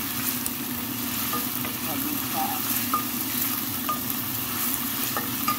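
White onion being stirred as it fries in a pan, giving a steady, close sizzle with soft scraping stirs throughout and no talking.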